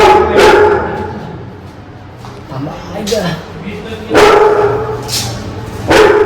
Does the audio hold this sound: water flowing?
no